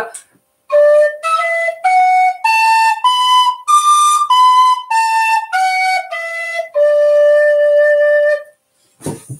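A bright tin whistle plays a simple melody of about a dozen distinct notes, stepping up and then back down, clear and close with no talking.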